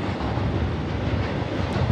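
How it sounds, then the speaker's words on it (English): A very long intermodal freight train with mid-train power rolls past at Camp Hill, Pennsylvania, a close, loud, steady rumble of wheels and cars with wind buffeting the microphone. "Today we are recording this really long train."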